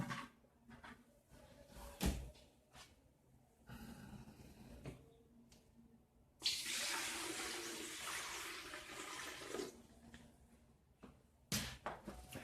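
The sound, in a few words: pouring water into Xiaomi Smartmi humidifier tank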